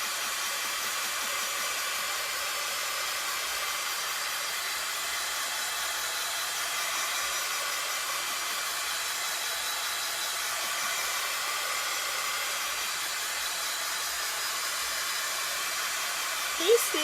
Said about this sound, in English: So I'm going to just zap the top of this with my heat tool.